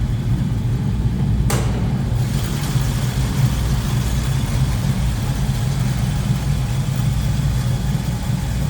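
A 1968 Ford Mustang coupe with a C4 automatic transmission idles steadily, its engine giving a low, continuous rumble close by after a brief sharp click near the start, with no voices over it.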